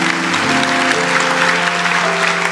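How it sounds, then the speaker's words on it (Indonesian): A congregation in a church service applauds with a steady burst of clapping, while an organ or keyboard chord sustains beneath. "kasih tepuk tangan untuk Roh Kudus"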